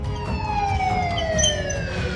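A police car siren wails in a long, steady gliding tone over a constant rumble of traffic and engine noise, loud and close, with no voices over it.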